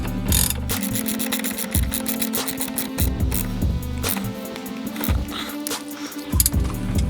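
A bolt on a MOMO steering wheel hub adapter for a Mk5 Volkswagen Jetta is tightened, giving loud, close ratchet clicks and metallic clunks in a steady repeating rhythm with no talking.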